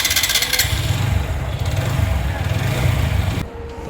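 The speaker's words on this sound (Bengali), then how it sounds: "দাদা একটু বাইকটা একটু স্টার্ট দিবেন" A 160 cc four-valve motorcycle engine runs close by after starting, with a steady idling chug and a light ticking tappet noise layered over it, ending with a brief change near the end.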